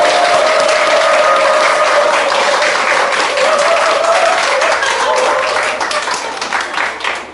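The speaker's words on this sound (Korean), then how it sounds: "힘찬 박수 부탁합니다." Loud, hearty applause from a lecture audience welcoming a speaker on oral health, dense clapping with a sustained tone beneath that tapers toward the end.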